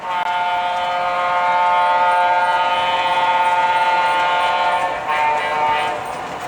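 An O-scale GG1 model electric locomotive sounds a sustained, loud multi-tone horn while running, holding the chord for several seconds before a brief dip and a second blast.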